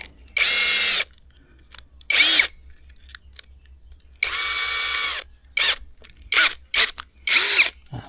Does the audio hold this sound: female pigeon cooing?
no